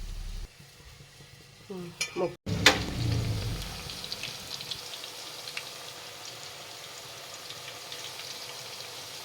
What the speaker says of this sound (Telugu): ఇలా ముక్కల్ని ఆయిల్లో ఫ్రై చేయాలన్నమాట